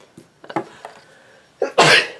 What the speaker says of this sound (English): I apologize, I had to sneeze.